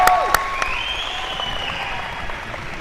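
Audience clapping at a South Fork High School football event, a few sharp claps up front then steady, moderate applause throughout with a faint tonal sound drifting over it.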